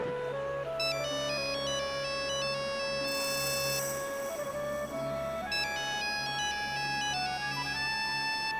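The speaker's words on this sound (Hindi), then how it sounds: "घंटी यहीं कहीं बज रही है।" A phone ringtone plays a repeating electronic melody, steady and fairly loud throughout, with no talking.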